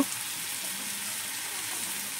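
Taro stolons (kochur loti) frying in a wok of hot oil with garlic paste, giving a steady, even sizzle that holds close and constant throughout, with no voices.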